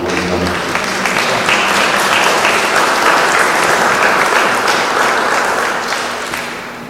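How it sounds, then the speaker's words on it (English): Sustained applause from a church audience for the pastor at St. Mary's parish, a dense, steady wash of many hands clapping that fades slightly toward the end, with no talk over it. "let's give Father just a round of applause right now"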